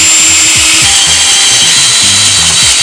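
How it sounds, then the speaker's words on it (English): A power drill bores holes for winglets on a Ducati sport bike, its motor whirring loud and close in short repeated bursts with no talking. "let's drill these holes out."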